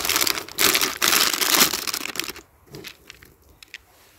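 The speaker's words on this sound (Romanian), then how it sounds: "acum mai pun și ultima pungă de la Bioferza" Fertilizer granules are poured from a plastic bag onto a lawn mix, giving a loud crinkling, rushing hiss in bursts for about two seconds, then sparse light ticks and rustles as the bag empties.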